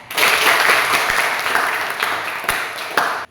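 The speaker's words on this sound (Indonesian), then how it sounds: "Tepuk tangan untuk teman kalian." Classroom applause from a tenth-grade Christian religion class, a dense steady burst of many hands clapping together for about three seconds, loud and close, then stopping abruptly.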